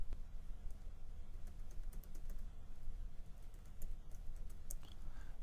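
Typing on a computer keyboard to enter a website address in a browser, a steady run of light rapid key clicks close to the mic over a low hum, with no talking.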